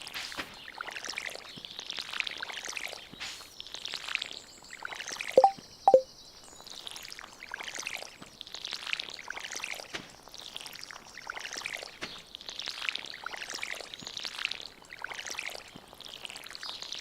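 Repeated soft splashing pours from a watering can on crops in Stardew Valley, rhythmic gushes with brief pauses and a couple of sharp plinks partway through, no voices.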